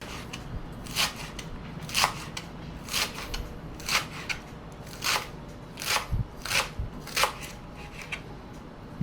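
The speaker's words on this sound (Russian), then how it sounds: "Вторую половину я сейчас мелко-мелко нарежу." A knife finely chops vegetables on a cutting board, close by, in quick irregular bursts of sharp crisp taps, with no talking.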